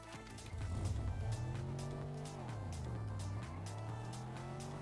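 A car drives in Fortnite with its engine droning and pitch rising and falling as it accelerates and turns, tires squealing briefly, loud and close over game background, no talk.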